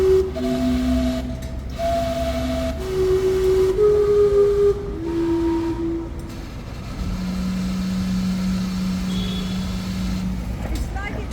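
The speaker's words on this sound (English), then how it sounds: "the clock announces the quarter hours with a whistle chime that plays the Westminster quarters" A steam clock's whistle chime plays the Westminster quarters as a slow sequence of sustained musical tones, one after another, over a continuous background of crowd and street noise.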